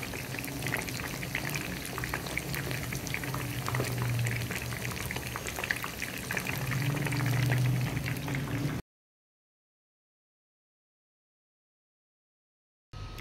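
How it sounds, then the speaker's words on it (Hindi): Chicken drumsticks for chatkhara drumsticks fry in a pan over a slow flame, giving a steady close crackle and bubbling hiss for about nine seconds before the sound cuts to silence. "इसी तरह हम बाकी को भी फ्राई कर लेते हैं।"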